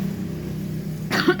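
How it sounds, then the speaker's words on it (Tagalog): A single close, sharp cough breaks out at the very end, following a quiet stretch of low steady hum in a room. "excuse ubok ko"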